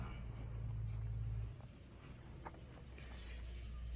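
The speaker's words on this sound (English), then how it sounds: "Here comes the dump truck." Dump truck arriving to deliver cinders, its low diesel engine idling and rumbling nearby, dropping in pitch partway through, with faint background sounds.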